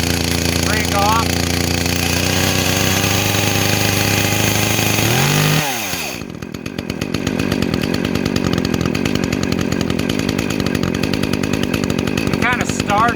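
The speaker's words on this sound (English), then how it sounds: "When it's at idle like this, the chain shouldn't be turning even with the brake off." An Echo chainsaw engine runs loud and steady at close range, dips briefly in pitch partway through, then settles back into a rough, buzzing idle.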